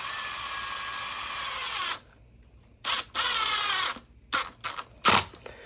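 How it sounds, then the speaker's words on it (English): Short whirring bursts of a power screwdriver driving screws into a plastic jar lid, several separate runs separated by pauses, close and fairly loud. "the screws will make their holes on the lid as they go in"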